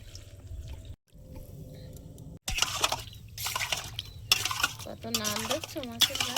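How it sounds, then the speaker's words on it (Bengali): Tengra fish washed in warm water in a bowl, with splashing, sloshing and clinks against the bowl in bursts after a quieter opening, close by. "মাছটা গামলির মধ্যে নিয়ে নেব উমসো গরম জল দিয়ে দেবো মাছের মধ্যে"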